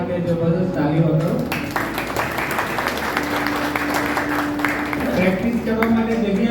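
An audience at a Christian singing event in Ahmedabad claps steadily for a group of young singers, a dense, loud round of applause lasting several seconds with a voice speaking over it.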